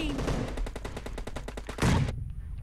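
Rapid automatic gunfire in the mobile battle-royale game PUBG Mobile, a fast even burst of a dozen or more shots ending in a heavier blast, loud and close with no voice over it.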